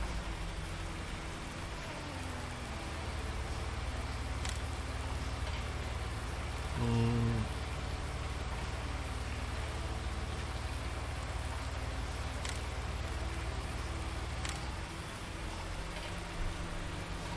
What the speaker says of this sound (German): Leider ist wieder Regen oder immer noch Regen,